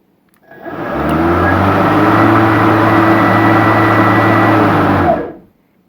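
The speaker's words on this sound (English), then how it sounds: "I'm going to start this mower in the house" Ryobi battery lawn mower motor spinning up indoors, a steady electric whir with a low hum that holds evenly for about four seconds, then winds down quickly to silence.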